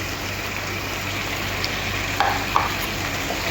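Fish gravy with lemon juice stirred in a pan, a steady close sizzle with soft scraping and a few light clinks of the spoon against the pan.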